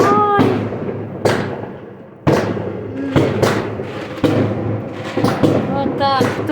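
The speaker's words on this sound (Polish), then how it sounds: "fajerwerki. A u nas tak strzelają" New Year's Eve fireworks exploding outdoors: loud, sharp bangs at irregular intervals, each trailing into crackle and rumble, with a voice heard among them.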